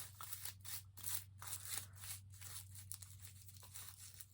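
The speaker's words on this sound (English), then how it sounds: "As you can see, I'm just seeing if there's a loop, cutting through." Scissors snipping through loops for a clay pot scarecrow craft, a run of quick soft close cuts over a low steady hum, faint overall and without talk.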